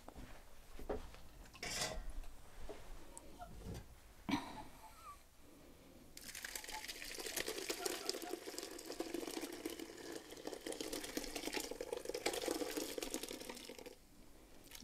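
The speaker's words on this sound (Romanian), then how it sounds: "peste el punem tifonul și acum punem laptele aici, laptele scopt," Soured-milk yogurt poured into a strainer lined with cheesecloth over a basin, a faint rushing pour that swells midway and runs for several seconds amid light clinks of a metal bowl.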